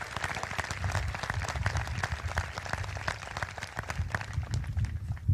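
Steady applause from a high school commencement audience honoring the valedictorians, dense clapping that holds for several seconds with a brief swell near the end.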